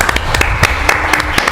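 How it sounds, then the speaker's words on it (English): Applause at a Suffern village board meeting for a board member's raise, a brief burst of scattered, uneven hand claps from a small room of people, close and fairly loud. "he gets a raise and a round of applause"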